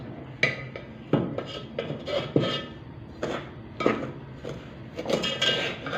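A spoon repeatedly knocking against a pot while herbal powder is stirred in, giving irregular clinks and taps with rubbing scrapes between them at close range.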